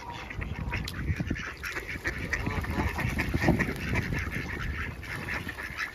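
Ducks and swans by the water quack and honk repeatedly in an overlapping, busy chorus, fairly close, with a soft background wash of outdoor noise.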